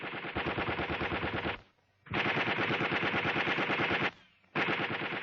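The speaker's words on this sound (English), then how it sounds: "The enemy now have the area under close observation and are firing at anything that moves." Enemy machine-gun fire during a platoon attack: three long, dense bursts of rapid automatic shots, loud and close, split by two short pauses.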